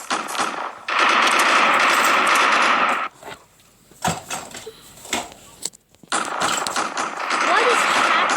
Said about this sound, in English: Hear that? You're shooting.